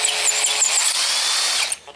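A power case trimmer cuts .38 Special brass cases, a loud close high-pitched motor whine that runs steadily for nearly two seconds before spinning down.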